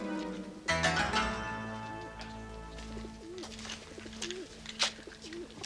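Racing pigeons coo repeatedly in a soft, rhythmic pattern, several throaty calls spaced out over a low hum and background sounds.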